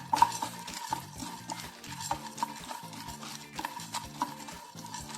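Peanuts, already roasted and partly skinned, are lightly dry-roasted and stirred in a pan, giving a steady close scraping and rattling of spoon against metal with a faint crackle throughout.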